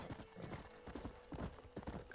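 Horse hooves clip-clop in Red Dead Redemption, a quick uneven rhythm of close, soft hoofbeats with a faint whinny, quiet and alone without talk.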